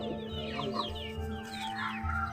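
A hen clucking close by, a run of short throaty clucks over a low steady hum, with no voices.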